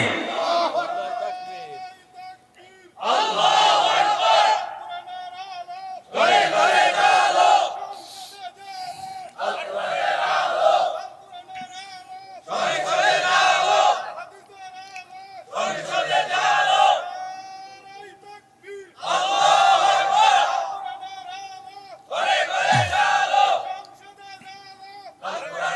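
A large crowd at an outdoor Islamic sermon gathering chants Allahu Akbar in loud unison bursts in reply to the preacher's takbir calls, several times in a regular call-and-response rhythm, with the preacher's voice between the chants.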